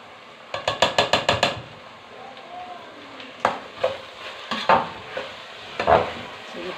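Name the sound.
buffalo ghee sizzling as a pot is stirred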